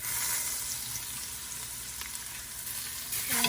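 Garlic frying in a pan gives a steady, soft hiss that stays close and fairly quiet throughout, with no voices.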